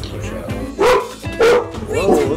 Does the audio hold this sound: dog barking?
yes